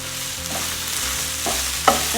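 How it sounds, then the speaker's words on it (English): Mushrooms and zucchini sauté in a hot pan for black bean sauce noodles with beef and shrimp, giving a steady close sizzle with soft stirring scrapes and one sharp clink of a utensil near the end. "And just literally saute it like this together for 30 seconds"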